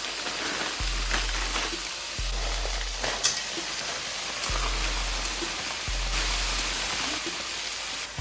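Mixed vegetables sizzle steadily in a hot pan during quick meal prep, a continuous close frying hiss broken every second or so by short low thumps, with no talking.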